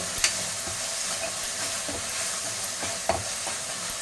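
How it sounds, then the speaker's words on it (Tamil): Marinated chicken 65 frying in hot oil crackles with a steady sizzle, broken by occasional sharp pops and the scrape of a stirring utensil, close up and free of speech. "அடுத்தது 65 வறுக்கணும்"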